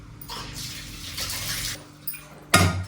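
Curry leaves are rinsed in water, with splashing, swishing and running water in short bursts, ending in a louder clatter and splash.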